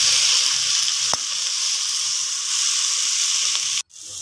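Agathi greens sautéing in a pan for kuzhambu, a loud continuous bright sizzle with a single sharp tap partway through, then an abrupt drop as the frying briefly quiets.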